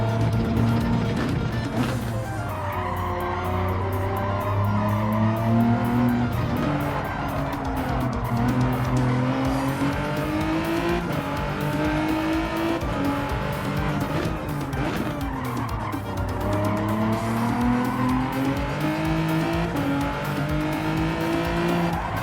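A car drifting in Gran Turismo 7 with loud, sustained tire squeal over a revving engine whose pitch rises and falls repeatedly as it skids and accelerates, continuous and close with no voices.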